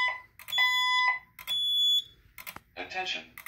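A two-stage building fire alarm system sounds its second-stage tone: repeated loud electronic beeps and sustained tones in short bursts, followed by a voice starting an announcement.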